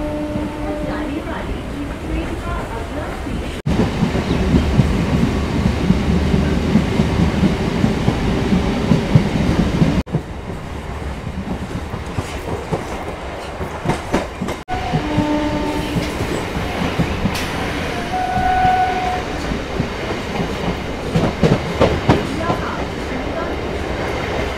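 Suburban train travelling from Dum Dum to Hridaypur, continuous rolling rumble and rattling of carriages with clickety-clack on the rails, some faint tonal squeals and background chatter in the coach.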